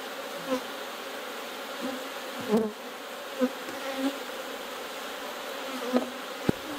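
Honey bees buzz steadily around an open hive during a split, forming a constant close hum with scattered knocks and taps from frames being handled.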